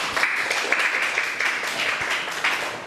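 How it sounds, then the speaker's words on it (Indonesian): A classroom of students applauds a group for a few seconds, a moderate, even patter of clapping heard from a short distance. "Ya, tepuk tangan untuk kelompok 2."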